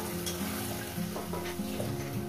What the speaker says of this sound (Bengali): এবার আমি মশলাটাকে সুন্দর করে কষিয়ে নেব।